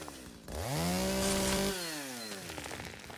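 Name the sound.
chainsaw cutting trees in Once Human video game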